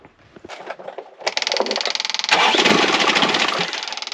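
Boat engine, just fitted with new start and choke wires, turns over with a few sputtering attempts and then catches into a loud, steady running idle close by.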